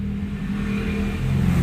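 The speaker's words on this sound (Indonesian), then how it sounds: "Ini motor dari bekas mesin jahit yang sudah pasti di dalamnya neodymium." A salvaged motor from an old sewing machine spins steadily nearby, a continuous low hum and whir with a slight rise in strength toward the end, no voices.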